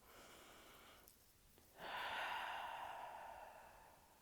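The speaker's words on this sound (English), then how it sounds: "We take another nice deep breath." A slow, deep breath drawn in and let out, soft and close, in a quiet room after a brief pause.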